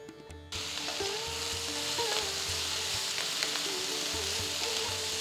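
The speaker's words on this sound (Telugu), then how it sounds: "ఇప్పుడు దీంట్లో నేను 2 మీడియం సైజ్ టొమాటోలు వేస్తున్నాను." Two medium tomatoes drop into a pan of sautéed onions for a mint tomato chutney, setting off a steady, close crackling sizzle that starts abruptly and holds evenly, with faint clinks of stirring.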